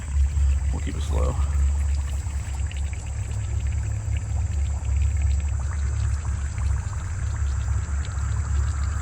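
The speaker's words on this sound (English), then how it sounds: "Still letting water out slowly." Water trickles and pours slowly out of a DIY above-ground koi pond, a continuous close burble and splash under a low steady hum, with a brief gurgle near the start.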